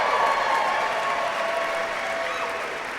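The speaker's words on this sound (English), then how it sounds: "Give yourselves a better round of applause than that." Loud applause from a large live audience at a Failure Lab storytelling event in Grand Rapids, a dense wash of clapping and crowd noise that runs steadily for the whole stretch and tapers slightly near the end.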